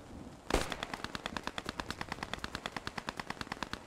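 Automatic gunfire in the World War II shooter Post Scriptum, a sharp opening shot followed by a long rapid even burst of about two dozen rounds, fairly close and loud with no talk.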